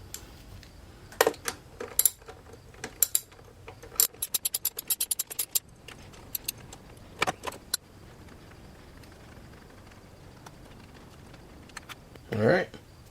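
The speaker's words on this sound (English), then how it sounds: "Next we're going to remove the 8mm bolt at the bottom corner here." A wrench removes an 8mm bolt from a Sportsman 3500 watt inverter generator, heard as a run of quick metallic ratchet clicks and small clinks, fairly close but light, with a clunk near the end.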